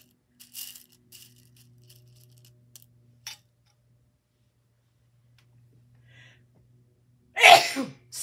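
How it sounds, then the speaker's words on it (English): A single loud sneeze bursts out near the end, close and sharp, after quiet fabric and paper handling sounds at a sewing table where a needle book is being finished. "Excuse me if I would stop sneezing."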